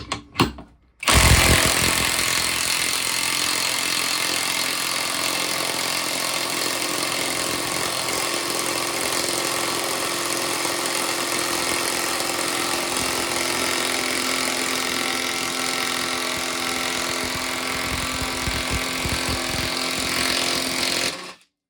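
A Hercules half-inch 20-volt compact cordless impact wrench whirs and hammers continuously for about twenty seconds as it drives a fastener in, loud and close after a brief start.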